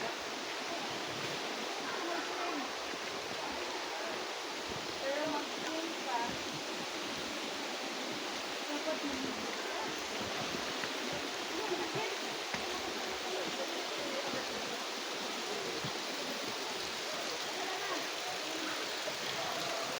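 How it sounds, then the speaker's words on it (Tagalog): Lokong Falls waterfall pours as a steady, broad rushing roar, even and unbroken throughout, heard from a moderate distance with no clear voices over it. "Nakita na natin ang Lokong Falls."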